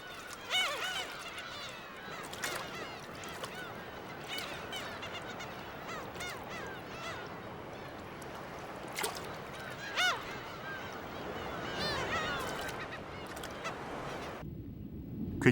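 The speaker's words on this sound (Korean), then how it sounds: "꽁치알을 노리는 것은 바로 괭이갈매기다." Black-tailed gulls call at sea near Dokdo, a chorus of harsh, nasal honking cries repeating irregularly over a busy background, some calls close and loud, others fainter, continuing for about fifteen seconds before a sudden cut.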